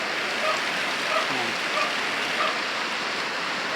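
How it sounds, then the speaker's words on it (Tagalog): Heavy afternoon rain pours steadily on a house, a dense continuous hiss with no pauses and no voices. "Grabe ang lakas ng ulan."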